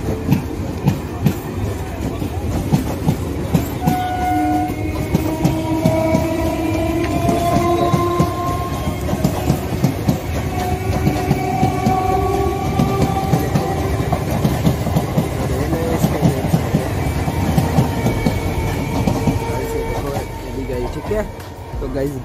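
A train passes through Dakshin Barasat railway station with a loud, steady rumble and clickety-clack of wheels, with squealing tones rising and falling over it, close by, while someone talks faintly underneath.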